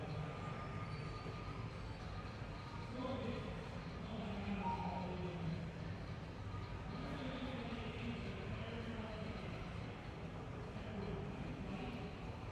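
A subway train in True Crime: New York City rumbles steadily and loudly on the tracks with a continuous low roar, and a voice talks faintly underneath.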